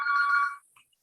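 A mobile phone rings during an indoor career-fair interview, a bright electronic ring that sounds loud and near for about half a second, then cuts off, leaving faint traces and near silence.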